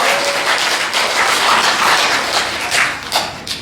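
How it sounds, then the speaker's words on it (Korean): A church congregation at Sunday worship claps with hands raised high, a steady, dense patter of many hands with a few sharper claps near the end and no talking. "두 손 높이 드시고 박수 한번 하겠습니다"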